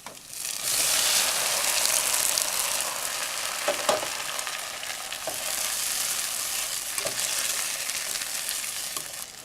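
Chopped tomatoes hit hot oil with garlic for a tomato pickle, setting off a loud, steady sizzle and crackle, broken by a few sharp scraping stirs of a spatula against the pan.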